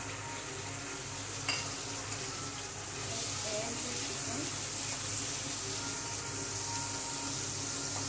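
Chicken pieces frying in a pan for chicken macaroni, a steady broad sizzle with stirring scrapes; the hiss grows louder partway through and runs continuously without talk.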